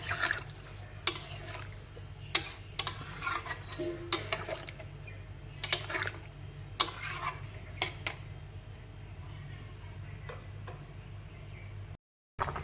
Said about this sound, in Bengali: এবার একটু নাড়িয়ে দেব, আলুটাকে ভালো করে সিদ্ধ হতে দেব।